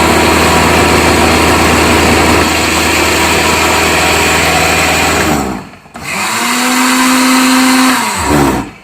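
An electric grinder whirs loudly as it grinds pulao masala spices, a steady high-pitched motor roar that cuts off briefly, then restarts and spins up again, heard alone.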